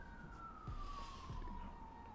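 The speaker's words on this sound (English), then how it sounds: "Oh, the sirens." A faint, distant emergency siren wails as one long tone that slowly falls in pitch over a low background rumble.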